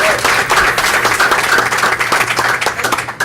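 Dense, loud applause from a crowd at a school district board meeting fills the whole clip without a break.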